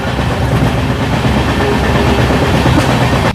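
The 17329 Express, travelling from Hubballi toward Vijayawada at about 60–70 km/h, gives a loud, continuous rumble with a steady rail clatter all the way through, and there is no talk.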